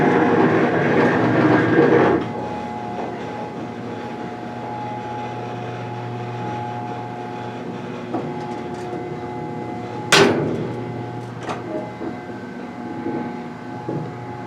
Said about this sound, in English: It's a very, very small freight elevator.